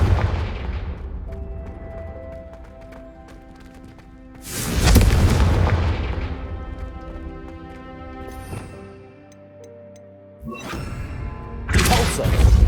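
Confringo spell blasts in Hogwarts Legacy erupt as loud, booming explosions, two big bursts with ringing, decaying tails and a smaller crack between them, set against a quieter musical backdrop.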